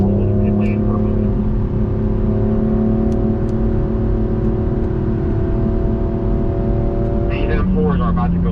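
A BMW M4 rolls around a race track with a steady engine drone heard from inside the cabin. The tone holds level before shifting near the end, and a voice talks over it.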